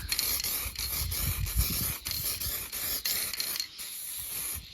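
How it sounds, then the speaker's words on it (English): An aerosol can sprays clear plastic primer onto the body of a custom Cozy Coupe ride-on toy car built as an Escort RS Cosworth. The hiss is close and comes in short, broken bursts with scraping and rustling around it. "Okay, so the aerosol plastic primer, and show you how this goes on."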